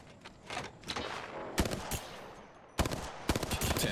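Hemlok rifle gunfire in Apex Legends, several sharp bursts of rapid shots separated by short pauses, loud and close, with quieter distant firing in between.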